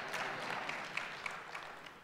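Faint applause from a lecture audience, a soft spread of many hands clapping at a distance for about two seconds, with a few sharper individual claps standing out.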